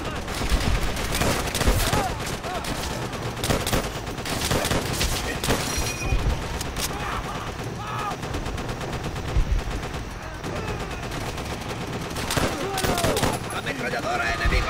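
Sustained automatic machine gun fire and rapid bursts of gunfire in a World War II battle in Call of Duty: World at War, loud and dense throughout, with shouting voices mixed among the shots.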